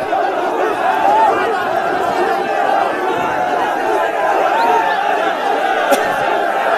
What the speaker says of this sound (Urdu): یہ نعرے بازی